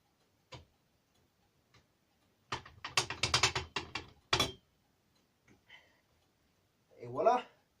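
Nuts on the back of a ZB37 machine gun tripod are loosened and tightened, giving a quick burst of metallic ratcheting clicks mid-clip among scattered faint taps, then a short spoken phrase.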